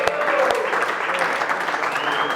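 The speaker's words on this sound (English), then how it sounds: "Give him a round of applause" A room of coworkers at a team meeting applauds, steady even clapping throughout the short stretch with a murmur of voices underneath.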